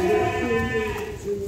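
Sheep, rams for Qurban weighing over 30 kg being loaded for shipment, bleat loudly and continuously at close range over a busy livestock background.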